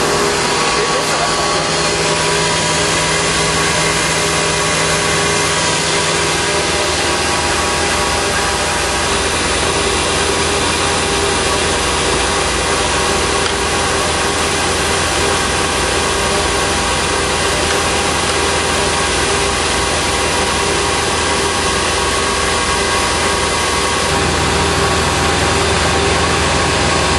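A loud engine runs continuously at a steady idle, with a deep low rumble and constant vibration throughout.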